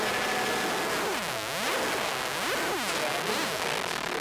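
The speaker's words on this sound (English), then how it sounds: "And then we have a noise oscillator on there." Dense, hissing noise from a guitar effects pedal's noise oscillator fills the sound, with sweeping whooshing tones that dip and rise repeatedly like a swirling filtered oscillator.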